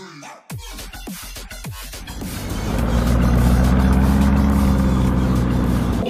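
A car engine running on the freeway: a few rhythmic thumps and bumps give way to a loud, steady low engine and road drone that builds and holds for several seconds, close and without speech.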